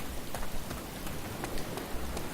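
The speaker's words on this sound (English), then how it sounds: "especially with rain, as the server's raining right now" Steady in-game rain on a DayZ server, a dense continuous hiss of falling drops with occasional sharper patter, no voices.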